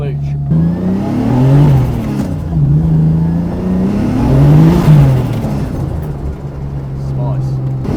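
An E30 drift car fitted with a turbocharged M50 engine drives along, its mid-pitched engine note rising and falling steadily and close by throughout, with people talking over it.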